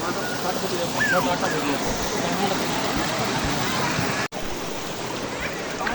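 Steady rushing water of a stream or waterfall fills the background, with a person talking over it.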